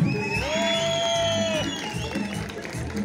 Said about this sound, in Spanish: fuerte el aplauso para las tres parejitas